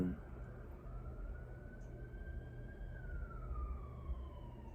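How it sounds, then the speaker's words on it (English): A siren wails steadily at a distance, its pitch slowly rising then falling as it passes, over a low rumble of traffic. "do you hear the sirens?"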